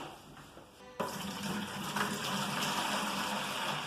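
Water pours from a tap into a bucket for mixing tile mortar, a sudden steady gushing fill that starts about a second in and continues evenly, close and moderately loud.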